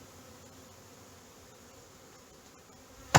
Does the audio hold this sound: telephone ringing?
no